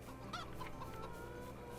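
Chickens in the Farming Simulator 22 video game clucking softly in short, repeated calls over a steady low background hum, with no talking.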